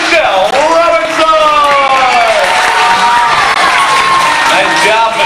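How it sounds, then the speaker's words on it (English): A crowd at Universal Studios cheers and whoops loudly for the host, Michelle Robinson. Excited shouts and clapping keep up throughout, with voices rising over the steady roar. "give a big round of applause to your host, Michelle Robinson."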